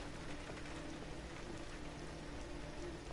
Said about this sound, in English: why is it raining in your mindscape right now, buddy?